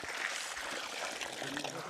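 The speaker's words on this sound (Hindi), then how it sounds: "डालें इसमें पानी।" Water is poured onto a sand sample outdoors, a steady rushing trickle running for a couple of seconds beneath busy background noise.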